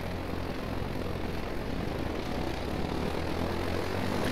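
KH-3 Alpha Fengwang drone taking off from the end of a runway in ArmA 3, a loud, steady propeller engine drone that stays constant and rises slightly in intensity throughout, with no voices.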